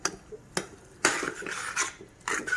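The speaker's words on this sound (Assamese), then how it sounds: "এতিয়া লাহে লাহে লৰাই মাংসখিনি মজিব দি আছোঁ" A utensil scrapes and knocks against a pan while chicken meat is stirred, a few distinct clinks and scrapes in quiet close-up.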